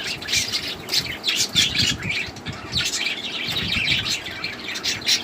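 Budgerigars in a breeding cage chirp and squawk continuously with busy, overlapping calls, close and fairly loud, with faint rustling underneath and no one speaking.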